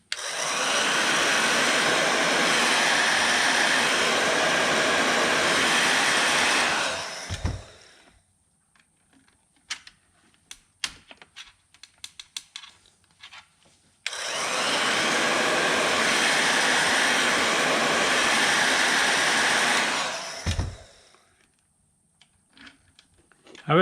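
A heat gun blows steadily on car seat track parts, a loud continuous roaring whoosh lasting about seven seconds, cutting off, then running again for another long burst, with faint clicks and handling noises in the pauses.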